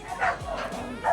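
A dog gives short yipping woofs and whimpery barks at moderate volume, with a voice murmuring faintly beneath, heard just before dogs are fed on a Philippine farm or training property.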